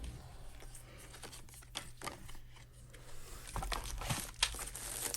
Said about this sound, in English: And pulling out the plastic here.